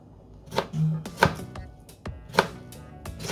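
A knife chopping beetroot into small cubes on a board, giving sharp, irregular close knocks with short pauses between strokes.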